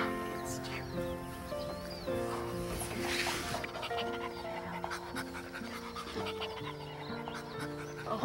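A dog pants rapidly and steadily nearby, a continuous breathy rhythm heard under background music.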